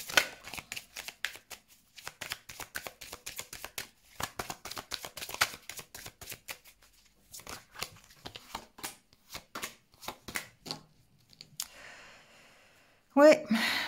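Tarot cards shuffled by hand in rapid crisp riffles and flicks, a dense run of close, dry card snaps that thins out toward the end, with a brief louder sound at the close.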